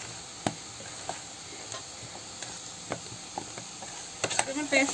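Mashed potato paste frying in a pan for bread pakora, a soft sizzle with scattered sharp ticks and scrapes of stirring, louder clatter near the end.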